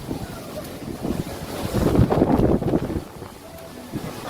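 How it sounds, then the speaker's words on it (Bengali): Strong storm wind gusts across an open outdoor setting as a squall kicks up dust, a broad roaring rush that swells to a loud peak midway and then eases slightly, buffeting the microphone throughout. "প্রচুর ঝড় শুরু হয়ে গেছে।"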